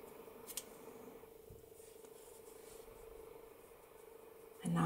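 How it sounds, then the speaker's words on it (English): Scissors snip crochet yarn in a quiet setting, giving one brief, faint, close cut near the start. A soft steady hum fills the rest of the moment, and a sharper handling noise comes at the very end. "and then cut the yarn."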